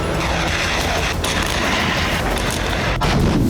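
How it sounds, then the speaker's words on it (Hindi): Russian artillery fire pounds along a front line in the war in Ukraine, a dense, loud barrage of booms with a couple of sharper blasts near the start and end, continuous rumbling between. "डोनेस्क से ज़ैपोरिज़िया तक रूस की आर्टिलरी आग बरसा रही है।"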